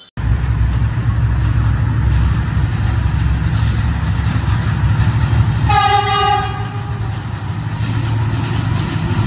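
A train rumbles past loudly and steadily, with a long horn blast sounding partway through.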